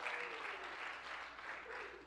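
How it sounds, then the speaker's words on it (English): A church audience at a comedy show claps steadily in a continuous, fairly soft round of applause, with a few voices mixed in. "Yeah, we clap it up for yourself"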